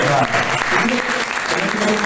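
A crowd at a film festival debate on collecting physical media breaks into dense, loud applause that fills the whole moment, with voices mixed in under the clapping.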